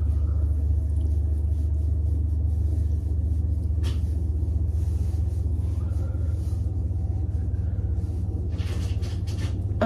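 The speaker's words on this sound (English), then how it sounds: "my washer sounds really unhealthy" A washing machine running and sounding unhealthy gives off a loud, constant low rumble with a few knocks and clatters over it, steady for the whole stretch.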